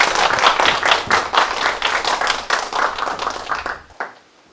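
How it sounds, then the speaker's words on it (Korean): Audience applause at an education administration forum as a speaker is welcomed, many hands clapping loudly and steadily for about four seconds before cutting off abruptly. "큰 박수로 맞아주시기 바랍니다"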